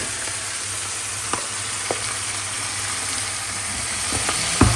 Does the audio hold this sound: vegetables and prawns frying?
yes